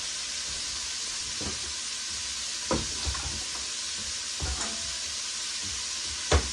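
Steady sizzling and frying hiss from flour and fat in a hot pan, with a few soft clinks and taps of a utensil scattered throughout.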